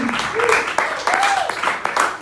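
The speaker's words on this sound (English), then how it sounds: "And give yourselves a round of applause." Audience applause at a comedy show, a dense spread of clapping from the crowd with voices and brief whoops mixed in across the whole stretch.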